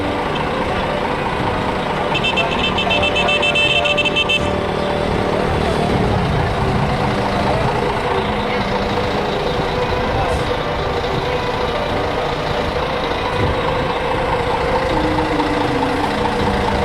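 A large Egyptian passenger bus, a 60-seater, rumbles with a steady engine drone and road noise heard from inside the vehicle, with faint chatter and a brief beeping signal early on.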